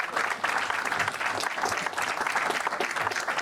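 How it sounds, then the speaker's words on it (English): An audience applauds Chairman Curry at the Mill Street Square event in Paterson, with dense, steady clapping that carries on throughout, loud and close. "Let's have another round of applause for Chairman Curry."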